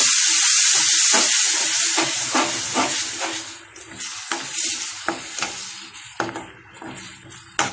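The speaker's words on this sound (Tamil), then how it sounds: "3 தக்காளி எடுத்து நான் அடித்து வச்சுருக்கேன், அதை இப்போ போட்டுக்கலாம்." Crushed tomatoes hitting a pan of frying onion-garlic curry, a loud hissing steam burst that gradually settles into a softer sizzle with steady stirring scrapes, close with no speech.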